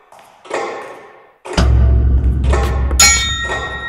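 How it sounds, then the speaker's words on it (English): A bell is rung at a ticket counter, with several metallic clangs and dings ringing out one after another, loud and close, over a low humming background. "Why don't you ring the bell?"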